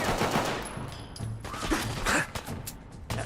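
Rapid bursts of automatic gunfire crackle in a Fallout 4 firefight, loud and close, with short volleys and sharp impacts packed together across a few seconds.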